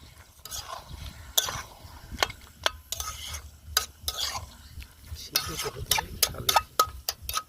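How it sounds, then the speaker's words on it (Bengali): Chicken frying in a covered karahi at a rainy outdoor campsite, a faint sizzle under repeated sharp scraping and clinking of a utensil against the pan. "এখন চিকেন ফ্রাই হচ্ছে"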